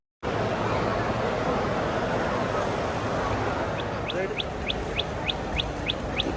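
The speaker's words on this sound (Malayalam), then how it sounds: "ഇത് ആർട്ടിഫിഷ്യൽ കിളിയാണ്, പക്ഷെ എത്ര രസമാണ് അതിൻ്റെ ശബ്ദം കേൾക്കാൻ." An artificial toy bird at a busy fish and aquarium market in the UAE gives a row of short, evenly spaced chirps during the last few seconds, sitting over a steady, loud crowd murmur.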